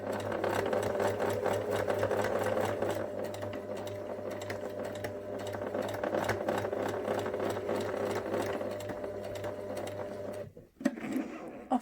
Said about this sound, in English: Let's sew the bottom of the bear's back 2 pieces together.